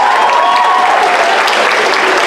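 An audience at a school Transition Year variety show claps for a young writer in a hall. The dense, even applause holds steady for a couple of seconds, with a faint whistle or voice riding over it.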